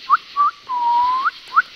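A man whistles to imitate a bird at night in the woods, with short upward-sliding chirps around one long held note, loud and close with no other sound.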